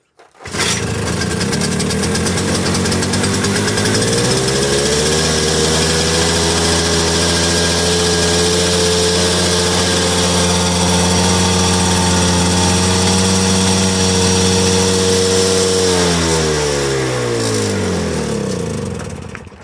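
A Toro CCR2000 snowblower engine cranks and catches, then settles into a steady, loud idle that runs for about fifteen seconds before shutting down and winding off.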